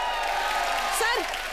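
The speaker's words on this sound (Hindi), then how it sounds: "एक बार जोरदार तालियां सनी बाजी के लिए" Studio audience applause for actor Sunny Deol on the comedy show Comedy Nights Bachao, a steady wash of clapping with a couple of whoops riding over it, with a voice also talking through it.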